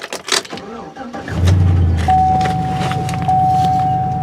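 An old truck with about 310,000 miles starts up: a few clicks and rattles, then the engine catches and idles as a steady low rumble, with a thin high whine running over it.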